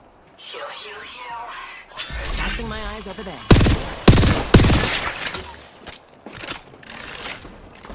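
Several sharp, loud gunshots crack in quick succession amid swooshing effects and mechanical noises, with a voice murmuring at the start.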